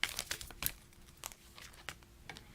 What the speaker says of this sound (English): He's shuffling these cards.